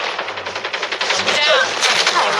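Automatic LK24 rifle fire in the mobile shooter Call of Duty Mobile: rapid, evenly spaced bursts of shots that run through the whole stretch, loud and close, with a faint voice underneath.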